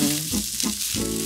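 Onions softening in hot oil in a pan give a steady, close frying sizzle that fills the whole short stretch, with no voice over it.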